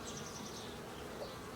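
Honeybees from a newly installed bee package hum in a steady, continuous buzz close by, with a faint higher whine drifting above; no voices.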